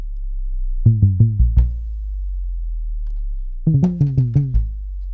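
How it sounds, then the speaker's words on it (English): A synthesized sub bass, bass and drum pattern from the Massive synth plays two short bursts of punchy, decaying hits over a continuous low sub-bass drone. "Now you got like sub, bass, drums."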